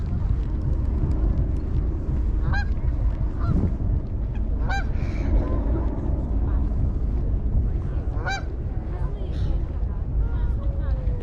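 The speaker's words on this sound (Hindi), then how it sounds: "बतखें हैं, स्वॉन्स हैं।" Ducks and swans at a pond in Kensington Gardens, London, give several loud honking calls over a constant outdoor background of mixed noise and distant hum, with people talking nearby.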